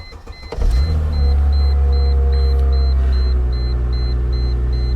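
A 2005 Chrysler Crossfire Roadster's engine catches and settles into a steady, close idle rumble, while a repeating electronic warning chime beeps evenly over it.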